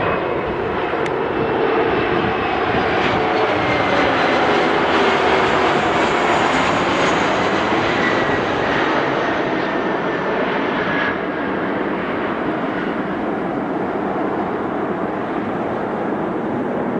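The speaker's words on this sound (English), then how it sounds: "Another CRJ." A CRJ regional jet at Philadelphia airport roars steadily and loudly for the whole stretch, a broad, sustained engine rush that swells through the middle and eases slightly toward the end, with no voices over it.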